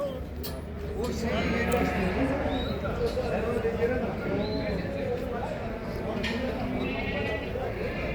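Sheep bleat repeatedly at the Çorum livestock market, some close and some farther off, over a steady outdoor background with people talking nearby.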